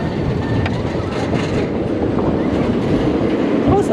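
A roller coaster at Energylandia rumbles loudly along its rails while braking, a steady close, dense roar with faint rattling and a brief squeal near the end.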